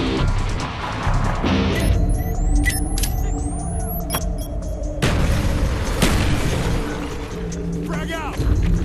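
A grenade blast in the video game Call of Duty Black Ops booms loudly amid constant gunfire and combat noise, with a second heavy impact a few seconds later and voices calling out under the din.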